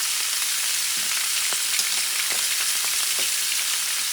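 A top sirloin steak sizzles in a hot pan after being flipped, a steady loud hiss of frying fat with small crackles and pops, no voices.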